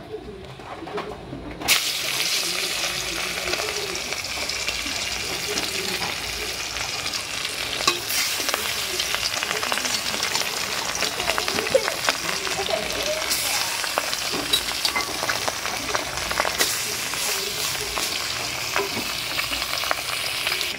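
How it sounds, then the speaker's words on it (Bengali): Fish sizzles steadily in a pan of oil for a long stretch, with occasional stirring clatter and birds cooing in the background. "মাথাটা পরে মাছটা সুন্দরভাবে ভেজে নেব।"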